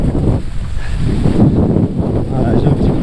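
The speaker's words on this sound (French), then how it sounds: "C'est un petit peu clapoteux là et le vent est un petit peu irrégulier" Gusty mistral wind buffets a kitesurfer on choppy water, a steady loud rushing roar with uneven swells of gust and low slapping chop throughout.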